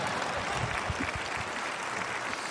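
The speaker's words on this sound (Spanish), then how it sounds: "Si van a aplaudir, aplaudan todos" Scattered crowd applause at a stand-up comedy show, a soft, dense patter of clapping heard at a distance without any voices.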